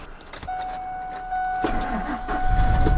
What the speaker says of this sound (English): See if it turns over.